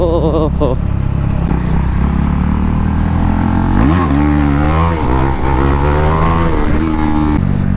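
A KTM Duke 390 motorcycle engine revs hard during a wheelie, rising and falling in pitch under excited talking.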